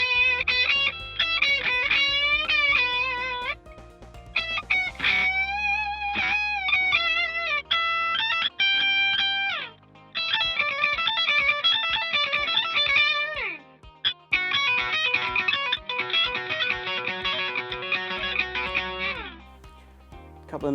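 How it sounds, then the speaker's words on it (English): Electric guitar lead lines played through two stacked distortion pedals, loud sustained saturated notes in several phrases with bends and short pauses between them. "When I put those two pedals together, that's where I get my real lead tones from."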